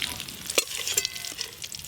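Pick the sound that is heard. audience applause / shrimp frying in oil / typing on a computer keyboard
shrimp frying in oil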